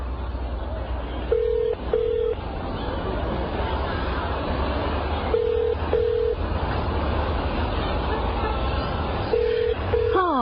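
Telephone dialing tones in a Cantonese radio drama: three separate pairs of short, clear dial beeps about four seconds apart, heard over a low rumbling background of traffic or engine noise.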